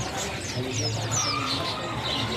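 Pleci (white-eye) songbirds kept in a box at a bird market chirp in quick, thin high tweets and trills over a steady murmur of nearby talk and crowd noise.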